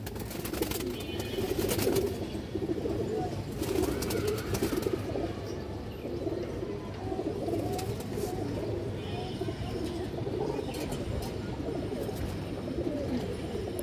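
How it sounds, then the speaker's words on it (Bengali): Pigeons at a dealer's collection of coloured and high-flying birds coo steadily in a low, continuous murmur, with occasional brief rustles and flutters throughout. "এই যে দেখেন দর্শক কবুতরটা দেখেন"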